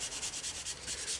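Polishing cloth buffing Rubio Monocoat oil finish into a wood sample, a close, steady hiss of rhythmic rubbing strokes about five per second.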